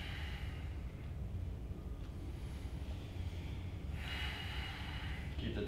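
A steady, smooth Ujjayi breath flows during a power yoga sequence, a soft continuous airy hiss with a slightly stronger breath swell near the end, close and quiet with no talking.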